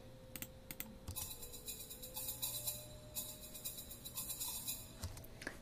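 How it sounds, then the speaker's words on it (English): Programmed shakers from a music score track play a busy, crisp rattling rhythm of quick repeated strokes, fairly quiet and steady throughout, with no voices. "we've got some shakers, which sound like this."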